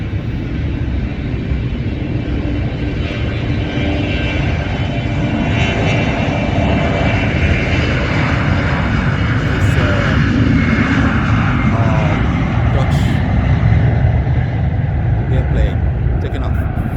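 A plane takes off at London City Airport on a stormy evening, its engines roaring loud and steady throughout under wind, with a voice talking over the noise.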